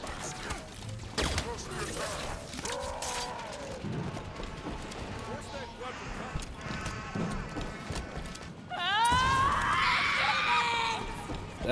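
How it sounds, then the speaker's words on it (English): A human scream rises in Halo 5 combat. It is loud and shrill near the end, over a busy bed of game noise and hoofbeat-like thuds. "That sounds like a human scream."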